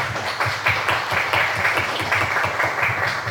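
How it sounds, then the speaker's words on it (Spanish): An audience claps together at a school campus event, a steady, moderately loud patter of many hands with no talk. "Por favor, un aplauso"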